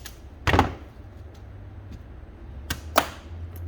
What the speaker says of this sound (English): that pin's coming out. Knock it out completely.